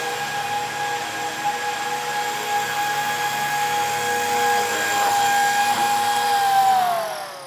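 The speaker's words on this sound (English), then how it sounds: "It's his first time flying a big heli." A big radio-controlled model helicopter flies steadily, its rotor and motor whine holding a sustained high drone, loud and fairly near, with no voices and a slight pitch drop near the end.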